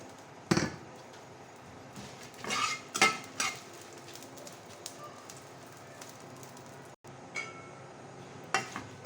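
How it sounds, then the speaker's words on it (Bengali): Dried red chillies fry in a pan, with intermittent stirring scrapes and utensil clinks over a low, steady background. "শুকনো মরিচ ভেজে নেব"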